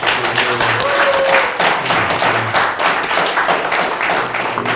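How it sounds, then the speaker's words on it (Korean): A loud, dense round of applause from an audience at a talk concert, steady clapping throughout with no talking. "세 분 한번 박수 한번 보내주시죠"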